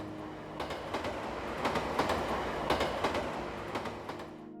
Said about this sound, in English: The trains are lit, so I'll see them coming before they can run me over.